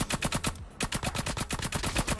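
Rapid automatic gunfire in COD Mobile, a loud, fast string of shots with one brief gap before the burst resumes, with no talking.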